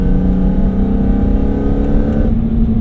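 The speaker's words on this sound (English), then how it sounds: "the E46 M3 already has a great induction noise" A BMW E46 M3 fitted with an Eventuri carbon fiber intake drones loudly and close, a steady throaty engine and induction tone that drops off sharply near the end.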